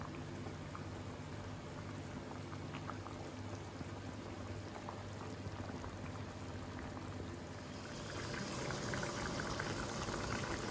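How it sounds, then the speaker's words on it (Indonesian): Chicken simmering in a pot of spiced water over low heat, a steady close bubbling and hiss that grows slightly louder and brighter toward the end, with no voices. "Kita ungkep sampai airnya menyusut. Apinya sedang aja kecil."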